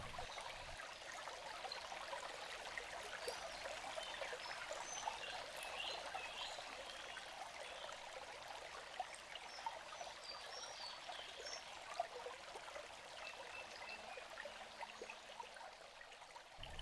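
A forest creek flows through untouched Hungarian wilderness beside an old hollow beech tree. The water makes a steady, even rush that never lets up, with faint bird chirps scattered above it and no voices.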